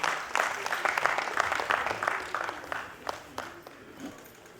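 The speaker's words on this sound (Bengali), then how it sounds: "Again huge round of applause." Audience applause fills a hall at a political conclave in India, a dense, steady burst of many hands clapping that gradually thins out over a few seconds, with faint voices underneath.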